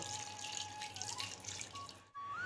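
A bowl of water poured into semolina and palm pulp for pithe batter, a steady close trickle and splash running for a couple of seconds before briefly cutting off, with no voices.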